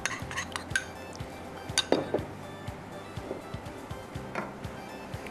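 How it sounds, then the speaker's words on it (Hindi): A whisk clinks and scrapes against a pan while custard mixture is stirred, with soft irregular taps and a faint background hum. "और विस्क साथ रखिएगा ताकि आप आराम से उसको मिक्स कर सकें"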